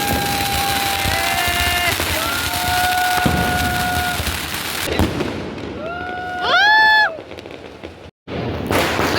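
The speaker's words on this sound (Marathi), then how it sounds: "डब्यात फटाके." Diwali firecrackers whistle and burst outdoors, several rising shrieks and crackling pops overlapping, ending in a loud close bang that drops into brief silence before more distant noise.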